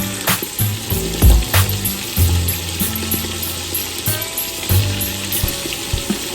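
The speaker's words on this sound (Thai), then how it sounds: "ตั้งกระทะน้ำมันร้อนนะคะ เราจะลงปลาทอดกัน" Steady sizzling and crackling of fish frying in hot oil, with scattered pops and clinks of a utensil against the pan, close and continuous.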